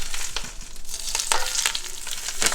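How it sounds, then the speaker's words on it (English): Hot bacon grease poured over lettuce and onions hisses and crackles in loud, close bursts of sizzling that flare and settle over a couple of seconds. "Take your hot bacon grease."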